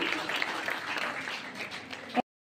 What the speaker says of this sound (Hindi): जोरदार तालियां और धन्यवाद बैंक को भी।